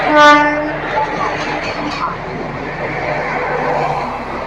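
A train horn blares right at the start, then the steady rumble of the Diva–Ratnagiri passenger train arriving at a Konkan Railway station continues under a loud public announcement voice giving train number 50104.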